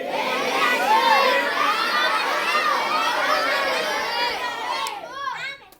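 An audience at a spiritual discourse on Chaitanya Bhagwat shouting together on cue, a loud sustained mass of mixed adult and children's voices with cheering, fading out near the end.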